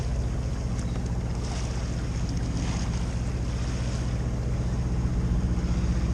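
A Nova 28 sailboat motoring under engine: steady low engine drone under continuous wind and water rush, constant and close, with no talking.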